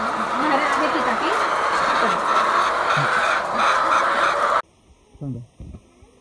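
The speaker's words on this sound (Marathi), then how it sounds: "ह्या केजमध्ये 5 कोंबड्या आहेत." Caged layer hens at a poultry farm cluck and squawk in a dense, loud flock chorus, then the sound cuts abruptly to a few isolated nearby calls.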